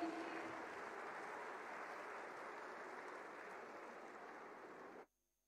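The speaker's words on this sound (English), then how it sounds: "A huge round of applause for Shri D.R." Audience at a student parliament event applauding a speaker being welcomed, a sustained, fairly faint wash of clapping from a large crowd that holds steady and then cuts off abruptly into silence.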